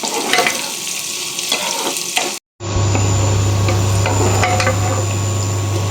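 Chopped onions fry in a pan for an egg keema masala, giving a loud, steady sizzle that cuts out briefly near the middle and then resumes with a low rumble beneath. No one speaks.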